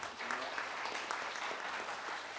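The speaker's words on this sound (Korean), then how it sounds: "박수 한번 부탁드리겠습니다" Audience applause at an urban regeneration forum in Jeju, a steady wash of clapping from a seated crowd that holds at an even level for the whole stretch, with no voices rising above it.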